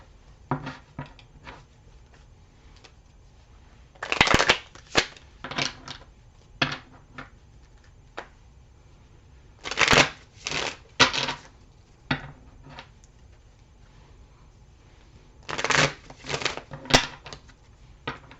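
A tarot deck being shuffled, with repeated bursts of crisp riffling card flutter in three clear clusters and softer taps between, close and moderately quiet with no talking.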